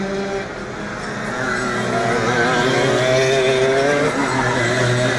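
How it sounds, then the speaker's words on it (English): Racing kart engines scream around the track at a national sprint championship, one with a blowing exhaust. The droning, shifting engine note swells louder as the karts pass close by, and no one speaks over it. "Sounds like someone's starting to blow an exhaust out on the racetrack"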